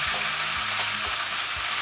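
Ginger dropped into lightly browned onions frying in a pan for sarson ka saag, a loud, dense, continuous sizzle with a few soft stirring knocks underneath, close up and without any talk.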